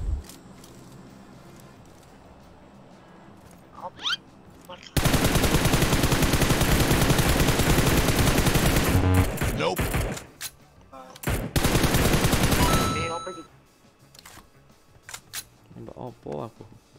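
Bursts of automatic gunfire from a PUBG battle royale match, loud sustained volleys with brief gaps and a few scattered shots, under occasional talk.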